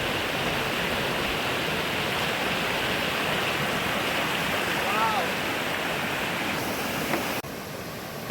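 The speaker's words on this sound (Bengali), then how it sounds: "এখানে না গেলে বোঝা যাবে না যে খয়াছড়া ঝর্ণার সৌন্দর্য কতটা অপূর্ব" Khoiyachhora waterfall in Sitakunda, a steady loud roar of rushing, crashing water filling the whole clip without a break, close and constant, with a faint whistle-like tone briefly audible midway.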